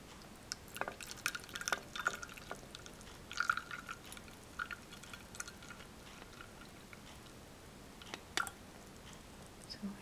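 Tea poured in a quiet room, heard as a faint liquid trickle broken by soft scattered drips over about ten seconds, with no talking.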